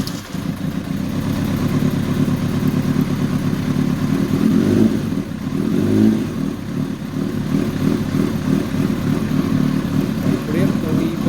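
A Kawasaki ZRX motorcycle engine runs close and loud at a steady idle, fitted with a Gunson Colortune plug for mixture tuning, with a continuous even throb throughout.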